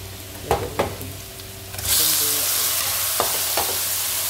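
Cooking oil sizzles in a frying pan while breakfast is made, a broad steady hiss rising sharply about halfway through, with a few knocks and clatters of utensils before and during it; no one speaks.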